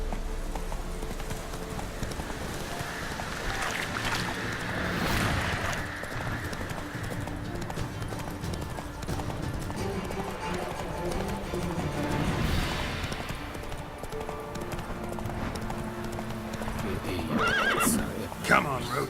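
Roach, Geralt's horse in The Witcher 3, gallops with a steady clip-clop of hooves and lets out whinnies along the way, while someone speaks over the hoofbeats and the game's music.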